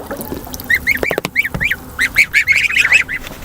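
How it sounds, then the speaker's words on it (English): Several ducks, one male and three females, quack in quick repeated bursts close by, the calls bunching into a lively chorus toward the end. "So I got 1 male and 3 female duckies."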